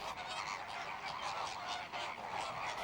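Pink flamingos calling at the Molentargius ponds, a chorus of nasal, goose-like honks repeating in an uneven rhythm, moderately distant and continuous.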